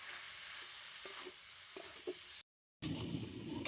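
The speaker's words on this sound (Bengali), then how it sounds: "এবারে আমি দিয়ে দিচ্ছি আগে থেকে সেদ্ধ করে রাখা আলু এঁচড়। আরো কিছুক্ষণ কষিয়ে নেব মশলার মধ্যে।" Jackfruit and potato frying in a spiced masala in a pan, a steady broadband sizzle with a few soft stirring knocks, briefly cutting out before the hiss resumes louder.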